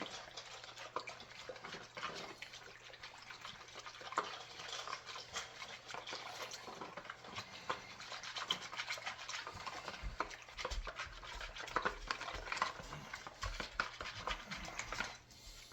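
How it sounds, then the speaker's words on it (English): A whisk stirs sourdough starter into water in a bowl, a steady soft liquid patter and swishing that runs close and continuous for the whole stretch, with no talking over it. "I'm just going to mix the starter and the water in."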